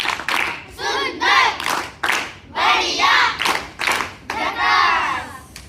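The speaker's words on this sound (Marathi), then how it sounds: "चला, ह्या गटासाठी एक झकास टाळी देऊया." A group claps in unison for students in a classroom, several bursts of rhythmic patterned applause with loud thumping claps in a short sequence.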